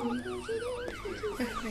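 Wailing police sirens in a video game police chase sweep up and down in overlapping cycles, fairly loud and continuous, with several siren tones layered together.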